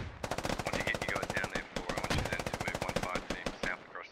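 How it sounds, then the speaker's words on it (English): Rapid automatic gunfire from the military shooter game Squad rattles out in long, dense bursts with short gaps between them, loud and up front. "Volatile Magnesium and Muffin Man taking shots at Raph"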